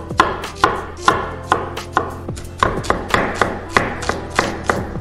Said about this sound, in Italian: Iniziamo la nostra ricetta tagliando le cipolle.